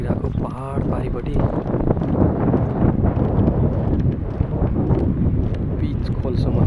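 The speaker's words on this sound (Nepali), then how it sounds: "हावा स्याट मारिरहेछ त्यो" Strong wind buffets the microphone steadily at a hillside spot at sunset, a loud, rough rushing roar that runs through the whole stretch beneath a person talking.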